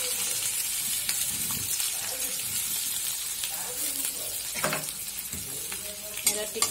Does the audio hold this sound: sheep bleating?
no